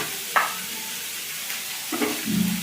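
Turmeric, hot chilli powder and Kashmiri chilli powder hit a hot frying pan and are stirred, giving soft sizzling with a few scraping strokes and a louder stir toward the end.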